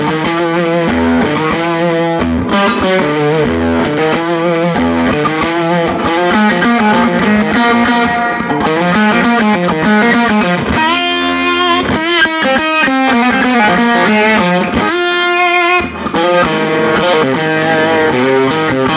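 A Ruby Ray guitar amp in triode mode with the distortion maxed out roars continuously through a thick, saturated guitar passage, loud and close with sustained chords and riffs, no talking.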